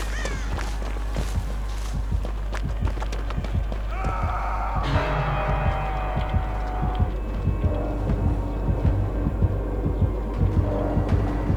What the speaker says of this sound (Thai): เราอยู่ในเสียงหัวใจอยู่